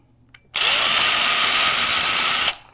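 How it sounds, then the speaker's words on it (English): A power drill whirs at high speed for about two seconds, drilling a hole into a styrofoam bird decoy, loud and steady, starting and stopping abruptly. "we want to drill a hole in the bottom of the bird to accept the stick"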